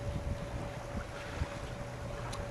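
A sailboat under sail in calm weather in Desolation Sound, with a steady wash of wind and water noise and a faint constant hum, continuous and without talk.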